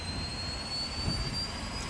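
Airbus H135 helicopter engine starting up in a flight simulator game, a steady whining drone with a thin high tone, moderately loud and even throughout.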